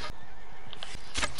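A horse in Red Dead Redemption II gives a short whinny, followed by a couple of hoof clops and a sharp burst of noise at the end, close and brief.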